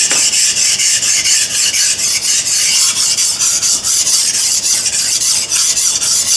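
Rapid, regular back-and-forth strokes of a knife blade on a high-grit sharpening stone, loud and close, about two strokes per second with no talking.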